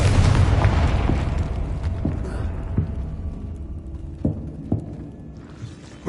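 A loud Confringo spell explosion in the video game Hogwarts Legacy, a heavy booming blast that rumbles and fades over several seconds, with scattered debris pops after.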